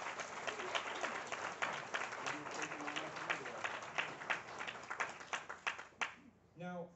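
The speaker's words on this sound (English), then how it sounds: "can we get a big round of applause for them" An audience at a Lock Haven University event breaks into loud, sustained applause that swells, then fades near the end as the clapping dies out.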